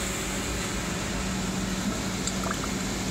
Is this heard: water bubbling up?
yes